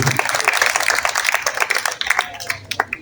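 Audience applause at the closing ceremony of a children's and youth book fair, a steady patter of many hands clapping that swells and thins over a few seconds, with a voice speaking faintly underneath.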